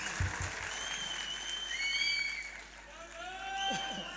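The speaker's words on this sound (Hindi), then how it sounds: "ज़ोरदार तालियों से अपने महबूब शायर को बुलाइए" Applause from the audience at a mushaira poetry gathering in Vadodara, a soft, fairly distant clapping wash beneath a voice, swelling and fading over a few seconds.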